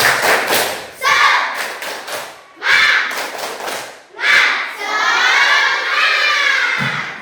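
A school class performs a rhythmic spirit clap, bursts of sharp claps in quick patterns punctuated by loud group shouts, ending in a long sustained chorus of children's voices, close and energetic.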